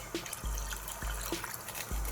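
Water pours into a pot of Puerto Rican arroz con pollo on a home stove, a soft, steady trickle with faint splashes and a few low knocks.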